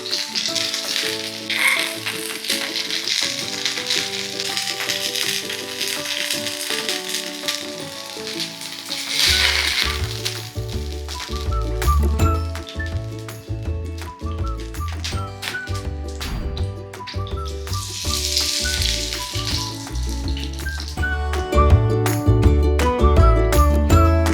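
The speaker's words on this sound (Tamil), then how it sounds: "இது வந்து மேலேயே இருக்கிறதுனால நம்ம இப்படி ப்ரெஸ் பண்ணால் அந்த உள்ளே இருக்கிற மசாலாலாம் நல்லா ஃப்ரை ஆகிடும்." Red snapper (sankara) fish fries in hot oil while being pressed down in the pan, a continuous crackling sizzle with sharp pops throughout, heard under steady background music.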